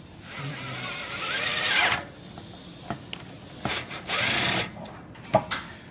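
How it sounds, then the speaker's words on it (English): A power drill whines in uneven bursts, spinning up and slowing as it bites into a stripped hole in a car part, with squealing pitch changes and brief pauses. "This drill is pretty weak."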